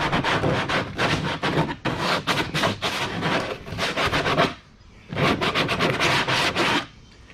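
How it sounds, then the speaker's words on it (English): Coarse 60-grit sandpaper rubbed back and forth on a kayak storage hatch lid, close up: steady rasping strokes in quick bursts with a short pause partway through, then more strokes. "This is 60 grit sandpaper, and it is sanding this down"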